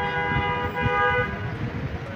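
A car horn blares in steady, continuous tones on a busy street in Chattogram, Bangladesh, with low traffic rumble underneath.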